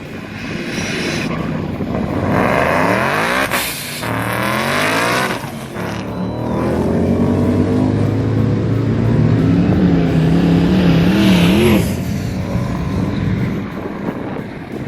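A supercharged 2012 Ford Mustang Boss 302 with a Paxton 2200 HD blower at about 18 psi, long tube headers and 1300cc injectors roars on a dyno, loud sustained runs with rising and falling revs and a brief lull near the middle.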